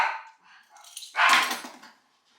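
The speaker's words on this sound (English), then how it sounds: "Sorry about my dogs." Dogs barking indoors in a home kitchen while salsa is made, a brief burst of barks and yips rising loudly after softer earlier noises, then fading out.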